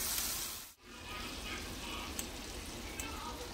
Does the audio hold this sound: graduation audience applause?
no